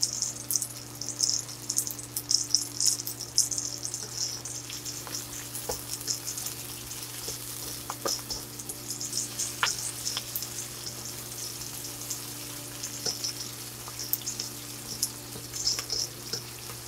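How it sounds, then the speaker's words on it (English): Chicken pieces for General Tso chicken stir-fry in a hot pan, giving a steady, close sizzle with crackling bursts and occasional stirring clatter over a constant low hum, with no talking. "I'm gonna just go ahead and, you know, stir fry these for about 3 to 4 minutes."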